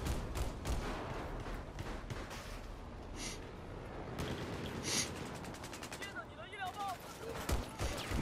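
Battlefield 4 gunfire, rapid automatic bursts and scattered shots with occasional heavier thumps, moderately loud and continuous, with a player's voice talking over the firefight.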